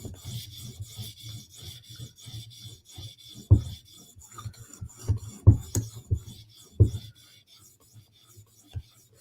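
Blade being sharpened by hand: repeated soft rasping strokes in a steady rhythm, close and fairly quiet, with a few sharper knocks in the middle.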